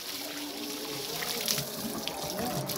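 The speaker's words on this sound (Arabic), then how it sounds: "شايفين كمية المية يا جماعة اللي نازلة" Water gushes steadily out of the mouth of a farm animal that drank too much water, a continuous splashing pour that runs without a break for the whole moment.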